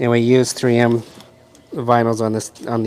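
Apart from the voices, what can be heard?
No distinct noise like a dog, phone or traffic.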